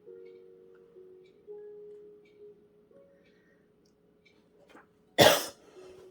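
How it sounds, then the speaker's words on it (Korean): One loud, harsh cough breaks a quiet stretch of low humming tone, close to the microphone, followed by near silence. "기침이 나네."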